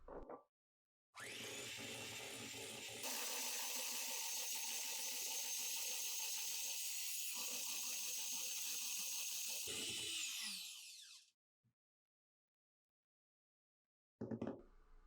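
Electric hand whisk running on low speed through cupcake batter after eggs are added, a steady close whirring motor with a rattle against the bowl, lasting about ten seconds before switching off, then near silence.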